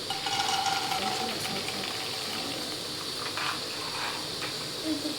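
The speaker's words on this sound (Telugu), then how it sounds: "ఇప్పుడు నూనె అయితే హీట్ అయింది ఫ్రెండ్స్. ఇప్పుడు పల్లీలు వేసేసుకున్నాం." Peanuts fry in heated oil for a potato mixture snack, making a soft, even hiss with a faint crackle throughout, fairly quiet and close.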